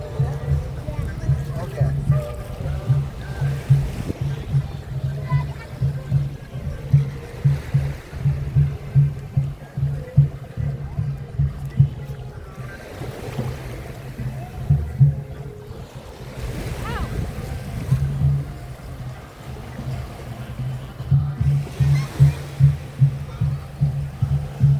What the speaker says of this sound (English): Now we're down to the Starfish Beach area, Starfish Lagoon, the family-oriented area.